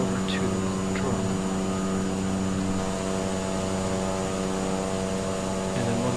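Steady simulated turboprop drone of a Cessna 208 B Grand Caravan in Microsoft Flight Simulator, flying near Tucson and Sierra Vista, a constant dense hum with tonal bands, even and unbroken throughout.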